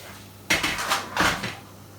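Wrapped Nigerian moi moi going into a pot of boiling water: two sharp, close metallic clatters of the pot about 0.7 seconds apart, with no talking.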